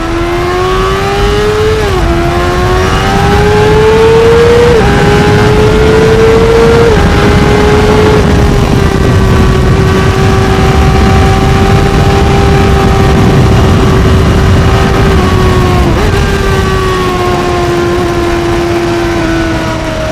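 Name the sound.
Honda CBR600RR motorcycle riding through a tunnel on a wet road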